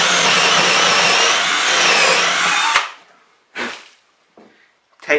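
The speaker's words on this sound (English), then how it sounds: "I'm going to drill my hole in the piece of wood." A power drill bores a hole into a piece of wood, a loud steady whirring grind for nearly three seconds that cuts off sharply, followed by a few short clunks and handling noises.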